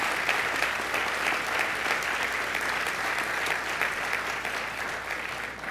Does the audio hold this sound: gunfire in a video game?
no